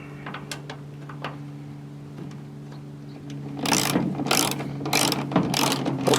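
Ratchet cranking 8mm bolts snug on a Ford F-series tail light lens, a steady run of sharp clicking bursts, close and fairly loud, after a quieter stretch of light ticking over a low hum.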